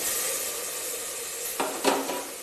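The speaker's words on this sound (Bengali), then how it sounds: "সব ভালোভাবে নাড়িয়ে চাড়িয়ে ভেজে নেব সবজি" Vegetables stirred and fried in a pan for a quick vegetarian dish, a steady sizzle running throughout with a couple of louder scraping stirs near the end.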